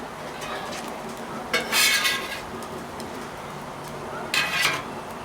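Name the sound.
spatula scraping cheese off a Blackstone griddle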